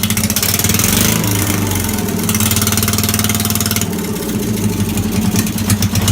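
A Ford LGT 145 lawn tractor engine runs loud and close, firing on only one cylinder with a muffler missing, giving a steady, rough, throbbing idle that continues throughout.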